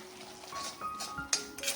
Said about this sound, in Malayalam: ഉപ്പ് ചേർത്തിട്ട് നന്നായിട്ട് ഇളക്കാം.